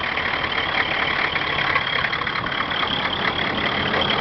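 A 3500 SRW pickup truck with one-ton Dana axles idles steadily up close, a continuous even rumble with no voices over it.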